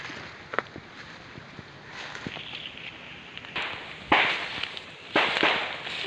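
Gunfire from a nearby firing range in a wooded outdoor spot pops as sharp, moderately distant reports, scattered irregularly over faint ambient noise, with a few louder cracks near the end.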